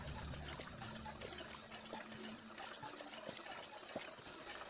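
Water trickles steadily from a water pump in the Fallout 4 video game, a soft continuous dribble and splash with small drips, heard alone at low volume.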